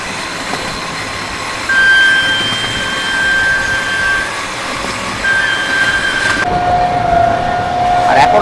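The Jammu Tawi to Sealdah Humsafar Express passenger train on a long run through Haryana, a loud continuous rumble of wheels and carriage with steady whining tones throughout, heard from on board.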